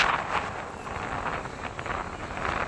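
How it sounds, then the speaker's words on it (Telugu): Steady wind gusting hard against the microphone on a beach, a broad rushing roar with low buffeting throughout, no talking. "ఫుల్ గాలి వస్తుంది"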